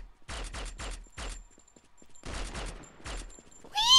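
Pistol gunfire in the Point Blank Strike shooter game: a rapid burst of four sharp shots, a pause, then three more evenly spaced cracks, loud and close, with a rising electronic game tone at the end.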